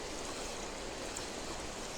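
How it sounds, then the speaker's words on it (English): Constant rushing of the Brock River close by, an even wash of flowing water noise that does not let up, with no one speaking. "If you can hear a lot of noise, it's the Brock River you can hear behind me."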